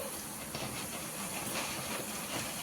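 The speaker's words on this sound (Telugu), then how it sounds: "ఇలా పుట్నాలు కూడా ఫ్రై చేసుకోవాలండి." Roasted gram (putnalu) frying in hot oil gives a steady, dense hiss and sizzle, fairly quiet and unbroken, with no voices.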